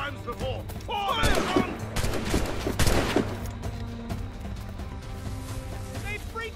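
Cannon and musket volley in an Assassin's Creed Rogue battle, loud overlapping blasts and booms under shouted commands and battle noise.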